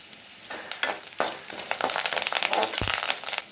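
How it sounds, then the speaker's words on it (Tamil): Garlic, ginger and curry leaves frying in hot oil for a fish fry, a close crackling sizzle with sharp bursts and spatters as the leaves hit the oil. "இப்போ பூண்டு பொரிஞ்சிருச்சு. இதில் இஞ்சி, கொஞ்சமாக கருவேப்பிலை,"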